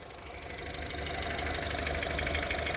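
A 2019 Honda City ZX CVT, 59,000 km driven, idles steadily with a smooth, even engine hum that builds slightly louder and holds constant, no one speaking.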